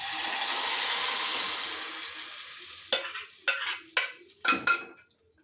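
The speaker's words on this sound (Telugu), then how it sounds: "లాస్ట్గా స్టవ్ ఆఫ్ చేసుకొని కరివేపాకు వేసేసుకొని అందులోకి ఈ పప్పు మొత్తం" Curry leaves and cooked dal tipped into hot tempering oil for Rayalaseema-style pappu, first a steady loud sizzle that fades, then four sharp bursts of spitting crackle as more goes in.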